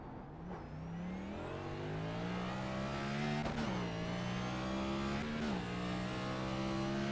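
A race car engine in the iRacing sim holds a loud, steady drone the whole way, its pitch climbing gradually as it revs, with brief dips around gear shifts before rising again. No voices.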